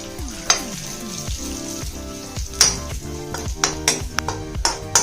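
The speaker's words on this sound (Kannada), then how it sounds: "ಈಗ ಇದಕ್ಕೆ ಮತ್ತೆ ಬಾದಾಮಿ ಹಾಕೋತಾ ಇದ್ದೀನಿ. ಅದನ್ನು ಸ್ವಲ್ಪ ಕೆಂಪಾಗಿ ಹುರ್ಕೊಳ್ಳೋಣ." Almonds fry in a pan of ghee for carrot halwa, a steady close sizzle punctuated by light clinks and taps of stirring, with no talking.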